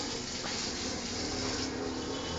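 Water is poured over a child's head during a bath, making a continuous loud splashing gush that fills the whole moment without a break.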